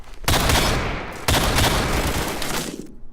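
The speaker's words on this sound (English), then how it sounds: "So Desert Eagle can basically kill anybody in like 2 shots, which is awesome for a pistol." Desert Eagle pistol fire in the Roblox game Phantom Forces, two loud, sharp reports about a second apart, each trailing off in a long echoing decay, close and alone.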